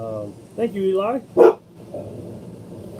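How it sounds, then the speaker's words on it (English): Several dogs bark in short sharp bursts and yips near a travel RV, a couple of close barks then a quieter whimpering tail, while a person talks over them. "Sorry about the dogs. It's going to happen."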